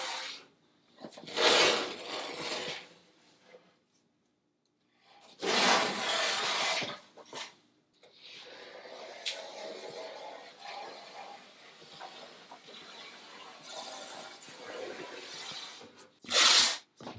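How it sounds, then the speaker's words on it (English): Masking tape pulled and pressed along a plank line on a wooden dory's hull before fiberglassing, heard as several loud rasping tears and rubbing strokes between quieter stretches of smoothing, close and with no talking. "Now I'm just going to carefully tape along that line."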